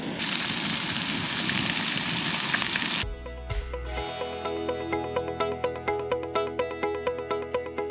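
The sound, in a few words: bacon frying in a pan on a Jetboil Zip stove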